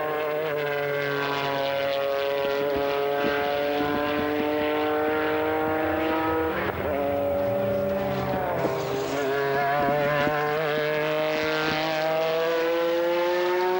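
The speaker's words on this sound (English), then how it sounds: "55 car of Michel Neugarten coming to the line" A 2001 FIA GT Championship race car at Silverstone during Superpole qualifying, its engine a loud sustained harmonic whine that shifts pitch as it passes and changes gear, steady and close throughout.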